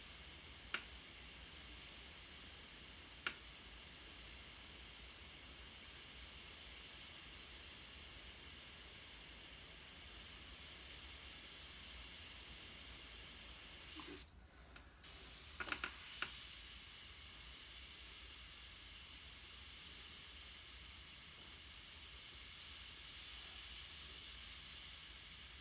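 A long, steady hiss of an airbrush spraying, broken briefly by a short pause and a few faint clicks near the middle.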